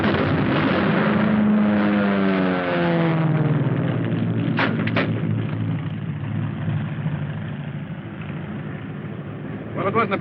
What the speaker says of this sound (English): There's the plane.